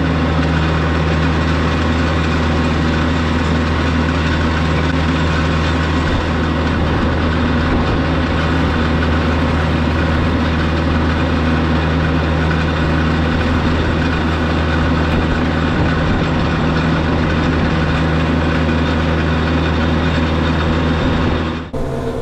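A tractor with a front end loader runs steadily, its engine droning loud and close for the whole stretch with a constant low rumble, no voices.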